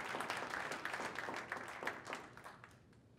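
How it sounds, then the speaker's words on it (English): A crowd claps for a volunteer at a startup community event, moderately loud and steady, fading over about three seconds. "Give him a round of applause."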